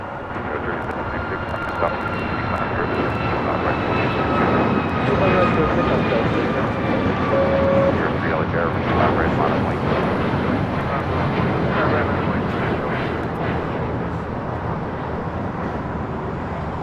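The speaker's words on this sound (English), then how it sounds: "Next takeoff is Alaska Airlines Flight 1317 heading to Seattle. It's a 737 MAX 9." An Alaska Airlines Boeing 737 MAX 9 jet takes off at LAX, its engines a loud, sustained roar that swells and holds broadband for the whole stretch, with a faint voice talking over it.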